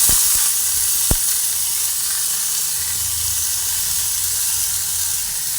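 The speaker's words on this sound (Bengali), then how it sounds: "চালটা আমি তেলের মধ্যে দিয়ে ভেজে নিচ্ছি ঘিটার মধ্যে দিয়ে ভেজে নিচ্ছি" Gobindobhog rice frying in hot ghee on a low gas flame gives a steady, loud, close sizzling hiss, with a few faint clicks early on.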